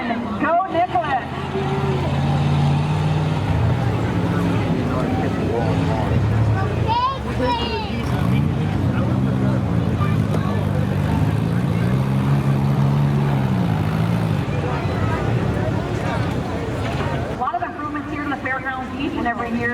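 Rough trucks racing in an evening endurance race, a steady engine roar with rising and falling revs, heard from a distance under a loud announcer and crowd voices.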